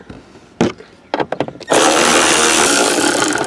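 A ratchet on a long extension drives long dash bolts on a third-generation Camaro/Firebird, giving a few short clicking bursts and then a loud, steady whirring grind close by.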